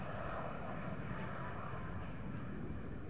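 A US Air Force Thunderbird jet streaks down the show line at an air show in Dayton, Ohio, its engine a steady, loud, broadband roar that holds without pause, with no voices present.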